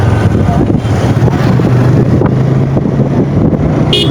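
Speedboat on the lake at Altadighi national park, a steady engine drone and water churn heavily masked by constant wind buffeting on the microphone, loud throughout with no pause.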